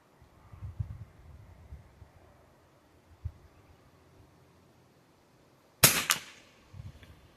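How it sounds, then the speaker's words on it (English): A single sharp gunshot crack from a .22 rimfire rifle built from a .303 Enfield, fired outdoors at a target 50 yards away with SK Long Range Match ammunition. The shot is loud and close after several seconds of quiet ambient noise. "Right now I'm shooting SK long range match."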